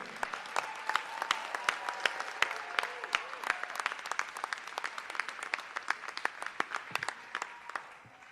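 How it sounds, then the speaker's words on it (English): Audience at a scholarship awards night applauding a family, with many sharp claps in a steady, fairly distant ovation that tapers off near the end. "Please give this Conley family a warm round of applause"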